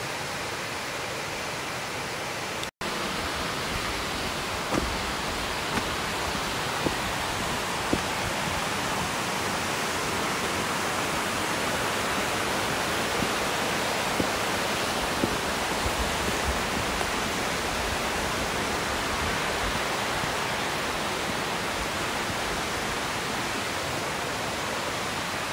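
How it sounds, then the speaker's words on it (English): Purling Brook Falls, a waterfall plunging over 100 metres in the Gold Coast hinterland, gives off a constant broadband rushing roar that stays even and unbroken for the whole stretch, with no voices. "you can just see the top of the falls, but you'd never guess that it's going to be plunging over 100 metres down"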